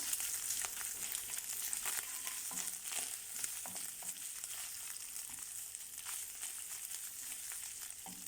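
Steady, loud sizzling of tomato and pepper paste and mince frying in a pan, with occasional stirring scrapes throughout and no talking.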